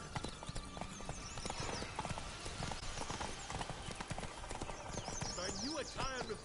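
Horse hooves clip-clopping at a steady gallop in the Witcher 3 video game, rhythmic thuds loud and continuous under game music, with occasional whinnies and a voice speaking over it.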